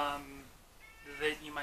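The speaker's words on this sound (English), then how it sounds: "If you hear my cat, he's going to be making a lot of noise" A Siamese cat meows twice indoors, a wavering cry at the start and another near the end, moderately loud with a quiet stretch between.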